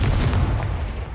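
The Confringo fire spell in Hogwarts Legacy lands as a single short, heavy explosive blast with a booming low end that fades over about a second.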